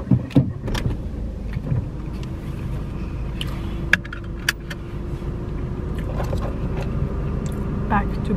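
A car drives along with a steady low road rumble and engine hum, light rattles and clicks inside the cabin, and people talking over it.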